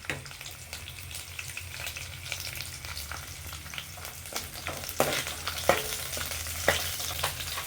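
Whole chillies frying in hot oil for a spicy mutton pepper fry, a close, steady crackling sizzle with scattered pops and stirring scrapes throughout.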